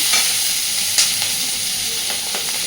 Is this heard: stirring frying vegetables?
yes